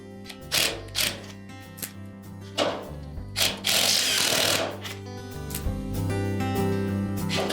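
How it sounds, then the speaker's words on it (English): A power driver backing 1/4-inch hex head screws out of a fan motor bracket on a Frigidaire refrigerator evaporator cover, loud whirring and ratcheting bursts close up over a steady mechanical hum. "next we'll remove 2 1/4 inch hex head screws that secure the fan motor bracket to that evaporator cover"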